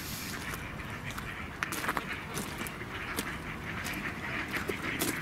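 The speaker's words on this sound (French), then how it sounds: "Donc il y a des gens qui donnent à manger au canard." Ducks quack repeatedly at historic ruins in Brie-Comte-Robert where people are feeding them, the calls scattered and moderately distant over a constant wash of outdoor background noise.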